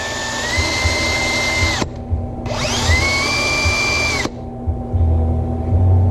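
A power tool spins a handmade coin ring on a rubber mandrel to smooth and polish its inner edge, whining loudly in two long bursts with a brief lull between them, then dropping away at the end.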